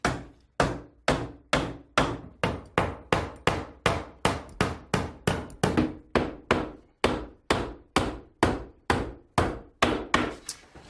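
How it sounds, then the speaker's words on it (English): Hammer driving 2.5-inch 8-penny finish nails to set door casing on a secret bookcase door, about two dozen crisp, steady blows at an even pace, close and loud, with no speech. "We're setting the casing with an 8-penny finish nail"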